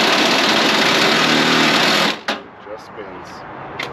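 A 1969 Chevelle's starter spins steadily without the engine catching, a loud continuous whirring drone that cuts off after about two seconds, leaving faint clicks.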